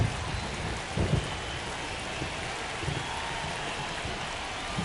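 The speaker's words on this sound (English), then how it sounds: "This rain is not letting up" Steady, heavy rain hisses across a ballpark in the MLB The Show 25 baseball video game, a dense continuous wash with a few low rumbles and thumps near the start and midway, no voices over it.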